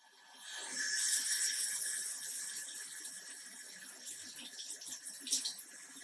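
Running tap water splashing steadily over hands being washed with soap at a sink, a continuous close hiss that swells early and then eases with small splashes.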